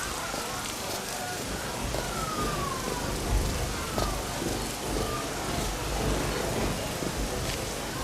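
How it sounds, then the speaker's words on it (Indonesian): Steady rain falls in a dense, continuous hiss, with voices murmuring faintly underneath throughout. "Lihat hujan ini."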